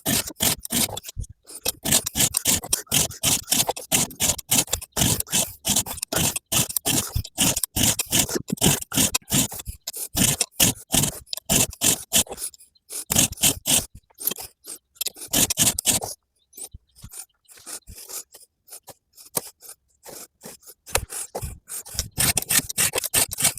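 Close, steady rasping strokes of a round file touching up a saw chain's cutters, fast and rhythmic with brief pauses between runs, loud and alone.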